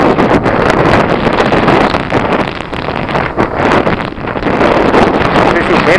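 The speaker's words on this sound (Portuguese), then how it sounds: "Tá ventando" Wind roaring and buffeting steadily during a ride on a 1992 Honda NX 350 Sahara motorcycle along the Salvador waterfront, loud and continuous with only brief dips.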